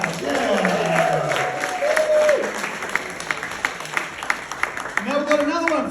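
Audience applause at a stand-up comedy show, a steady wash of clapping with some cheering that swells and carries on under a voice speaking into a microphone, fading slightly before the host keeps talking.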